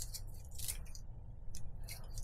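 Scissors snip thinly through cooked beef for Korean yukgaejang, a few crisp close-up cuts in quick clusters over a low, quiet room background.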